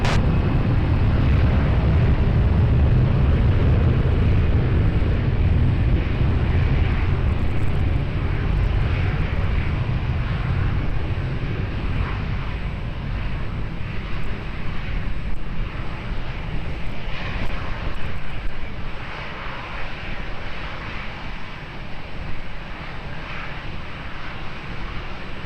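Airplane engines roar during a takeoff at Lisbon Airport, a loud, deep, continuous rumble that is heaviest at the start and eases slightly as the aircraft pulls away.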